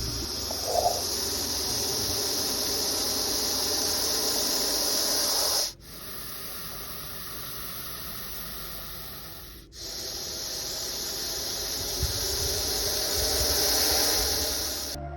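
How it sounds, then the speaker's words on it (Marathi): A Russell's viper gives a loud, sustained hiss with the harsh, breathy force of a pressure cooker whistle. It runs nearly unbroken and close by, dropping off briefly twice before surging again. "जेव्हा घोणस स्वतःला असुरक्षित समजतो, तेव्हा तो प्रेशर कुकरच्या शिट्टीसारखा मोठा फुसफुस आवाज काढतो"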